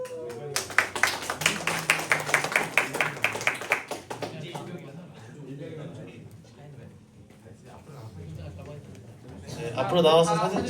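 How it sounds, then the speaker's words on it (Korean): Rhythmic group clapping follows a birthday song at a Korean church Sunday service, as a steady fast beat of many hands for about four seconds before fading into murmuring voices and talk. "박수."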